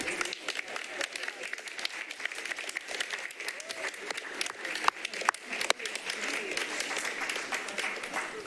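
A council meeting audience claps steadily right after the gavel, with dense, continuous applause and some voices murmuring underneath.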